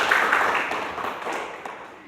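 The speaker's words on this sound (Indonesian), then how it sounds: "Tepuk tangan." Applause from a classroom of students, a dense patter of many hands clapping at close range that gradually thins and fades over two seconds.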